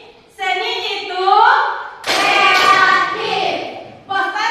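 A classroom group performs the tepuk seni clapping chant, voices chanting together in rhythm with hand claps mixed in, close and lively, with brief pauses between phrases.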